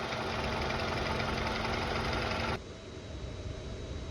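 A car engine idles steadily after an engine flush, a dense continuous hum with a faint knock, then it cuts off abruptly partway through, leaving a quieter background.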